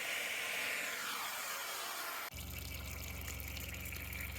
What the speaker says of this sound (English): See, the water's running beautifully now.